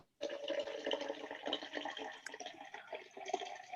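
Diet Mountain Dew pouring into a glass, a continuous close fizzing, splashing liquid stream lasting a few seconds without talk.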